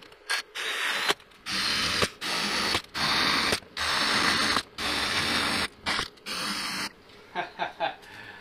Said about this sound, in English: You gotta love cordless tools.